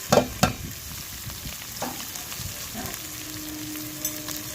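Onions fry in oil with bay leaf, cinnamon, cloves, cumin and green chillies over a wood-fired stove, a steady soft sizzle broken by a few sharp clanks and stirring scrapes at the start.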